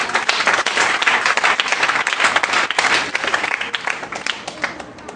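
A church congregation breaks into sustained applause to acclaim Jesus, dense clapping from many hands filling the room steadily from start to finish, with a few voices mixed in.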